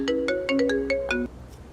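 A mobile phone rings with a bright electronic ringtone, a quick melodic phrase of stacked tones lasting about a second before cutting off, fairly loud and alone over a faint background hum.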